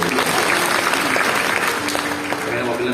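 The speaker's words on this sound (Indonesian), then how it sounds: "Tepuk tangan kembali meriah." A church congregation bursts into dense, lively applause during a sermon, a steady wash of many hands clapping, with faint voices mixed in.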